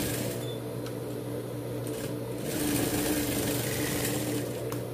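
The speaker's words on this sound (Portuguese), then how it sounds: "Agora vamos costurar o outro lado." A sewing machine stitches a dog's Christmas bandana in a continuous, close, even whir, swelling a little partway through.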